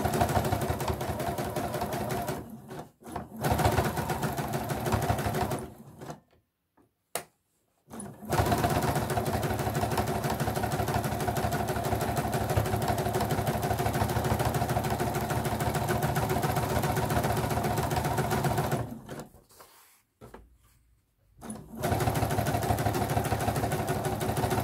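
A sewing machine topstitches a ribbon scrunchie close to the seam, running in long steady bursts with a few short pauses and stops, loud and near with no talking.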